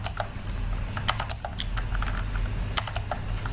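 Steady keyboard typing on a computer while data is entered into a C++ pharmacy app, a run of quick clicks and keystrokes close up over a low background hum, with no speech.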